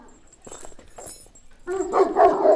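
A Kangal dog on a Kangal farm gives a few short, sharp barks and yips close by, ending in a louder burst of barking.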